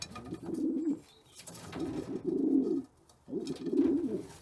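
Homing pigeons cooing close by in a loft in three soft, throaty bursts separated by brief pauses.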